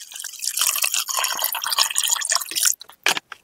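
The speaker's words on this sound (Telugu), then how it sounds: "తట్టలు వేసుకొని మంచిగా నీళ్ళు పోసుకొని శుభ్రంగా కడుక్కోవాలి." Chicken wings being washed in a plate with water give a steady run of splashing, dripping and trickling up close, ending in a few separate drips and splashes.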